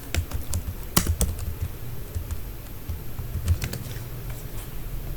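Rapid typing on a computer keyboard while working in an Excel spreadsheet, a steady close run of clicky keystrokes with a few louder key taps, heard alone without talk.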